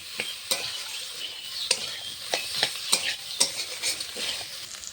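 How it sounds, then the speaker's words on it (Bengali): Potatoes and prawns stir-fry together in a pan with salt and turmeric, a spatula scraping through them in repeated close strokes over a constant lively sizzle. "আলুর সঙ্গে মাছটাও কষানো হয়ে যাবে"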